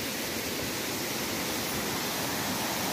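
A waterfall at Goiabol in Bom Jardim, heard from above, pours out a constant loud broadband rush that stays even and unbroken, with no voices.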